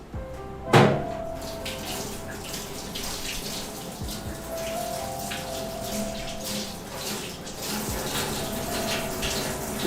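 Tap water runs steadily into a sink while vegetables for Thai lettuce wraps are rinsed, a continuous close hiss and splash with a sharp knock near the start and faint sounds in the background.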